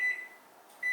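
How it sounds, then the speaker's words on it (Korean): A microwave oven cooking a covered dish of steamed eggs hums steadily with a thin, high electronic tone that cuts out briefly and returns, quiet and close. "뚜껑 덮어서 전자레인지에 넣겠습니다"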